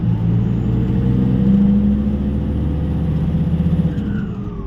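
A turbocharged car engine with an HX50 turbo accelerates under load, a steady loud mid-low drone with rising pitch and rough pulsing, close by, no talking.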